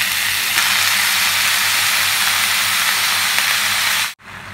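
Spinach tossed into a hot pan with poppy seeds gives a steady, loud hiss of sizzling that holds evenly for about four seconds, then cuts off abruptly near the end.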